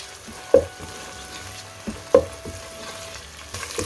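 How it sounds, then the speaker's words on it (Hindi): Soft sizzle of ginger garlic paste frying in a pan, with a few clinks of a spoon stirring, no voices. "1 मिनट के लिए हमने जिंजर और गार्लिक के पेस्ट के साथ उसको अच्छे से फ्राई करना है।"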